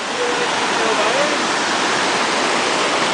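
A river rushing below a rickety bridge in the rainforest at El Valle, Panama, a loud, steady broadband roar of flowing water filling the whole moment, with faint voices mixed in.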